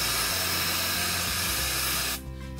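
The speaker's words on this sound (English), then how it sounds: "I'm gonna spray one side and we can compare it" L'Oreal Magic Retouch root spray sprays onto the roots of hair in one close, continuous aerosol hiss lasting about two seconds, then cuts off into quiet room tone.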